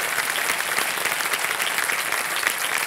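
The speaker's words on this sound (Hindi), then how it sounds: "एक बार फिर तालियों के साथ आपका स्वागत करते हैं" A studio audience at the Kaun Banega Crorepati quiz show applauds to welcome a contestant, a dense and steady burst of many hands clapping at once, close and fairly loud, with no talk over it.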